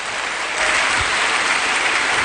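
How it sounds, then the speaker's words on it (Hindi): Loud, dense applause from an audience at a leadership event, a steady wash of many hands clapping that swells slightly after the first half second and holds for about two seconds. "जोरदार तालियां।"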